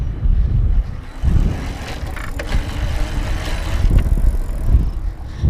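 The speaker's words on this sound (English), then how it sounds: "you can just hear there's a little bit more friction happening right there as I pedal along" A Trek Super Commuter+ 8S e-bike with a Bosch drive is pedaled without motor assist, its drivetrain friction giving a low, steady whirring rumble that swells in rhythmic surges with each pedal stroke, under constant wind noise.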